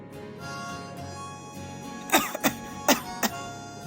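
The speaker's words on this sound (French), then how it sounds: "J'ai une petite toux qui tarde à terminer." Several short, sharp coughs from a person with a lingering small cough, four distinct bursts in the second half, close and fairly loud over a quiet room background.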